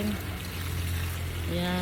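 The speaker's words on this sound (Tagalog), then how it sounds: "Damihan natin ng tubig para sisip-sip hanggang ilalim ng lupa nila." Water is poured onto potted garden plants, a steady splashing trickle soaking the soil, heard under a voice that talks throughout.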